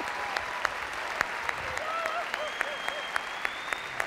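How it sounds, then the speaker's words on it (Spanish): A live cabaret audience in Buenos Aires applauds steadily, a dense wash of clapping with a few sharper claps standing out and a faint voice calling over it. "¡Un aplauso para Rodrigo y Ximena!"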